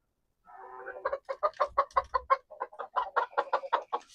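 Backyard hens cluck in a coop right beside the microphone, a steady rhythmic run of close, clear clucks with a few soft thumps of movement underneath.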